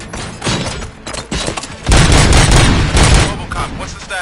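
Loud, dense bursts of gunfire crackle and boom in a chaotic fusillade, heavy and close, swelling into a sustained roar near the middle.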